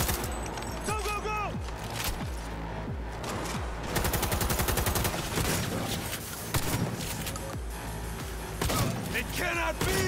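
Gunfire fills a firefight in Cyberpunk 2077, with dense rapid bursts and single shots cracking over a loud backdrop of game sounds, and voices talking now and then.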